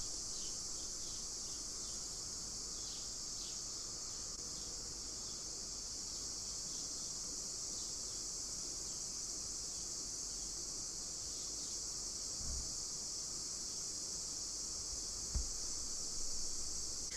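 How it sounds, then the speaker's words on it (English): Cicadas form a steady, high, shimmering drone in the background that stays even throughout, with a couple of faint low thumps near the end. "perhaps even write it down while you listen to the cicadas in the background here"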